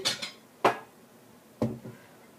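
Dishes clatter in a kitchen while someone searches for a bowl: three separate close clinks of crockery knocking together, with short quiet gaps between them.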